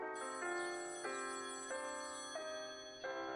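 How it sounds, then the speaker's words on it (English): A phone rings in the video game Copycat with a bright electronic tone repeating in steady stepped pulses, clear and fairly close, with no voices over it. "Phone is ringing."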